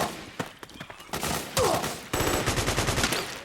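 Rapid bursts of automatic gunfire in the video game Metal Gear Solid 4, loud and close, with ragged volleys and sharp single shots piling into a dense fusillade, no speech.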